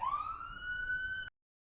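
A single ambulance siren tone sweeps upward in pitch as it approaches and grows steady, then cuts off abruptly into silence.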